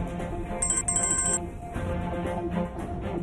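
An unanswered phone rings in a Turkish drama scene, giving bright, repeated electronic ringtone chirps over a busy musical background with no speech.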